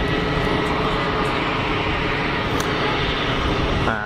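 A steady, loud broadband jet roar fills an airport apron as an airliner engine spools up at the far end of the field, continuous throughout with a slight tonal whine rising near the end.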